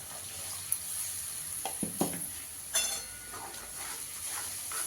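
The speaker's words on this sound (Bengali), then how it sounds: "মশলাটা ভালো করে কষিয়ে নেব।" Spice paste fries faintly in a pan for a hilsa-style fish curry, with a soft, steady hiss and a few scattered clinks and scrapes of stirring. No one talks.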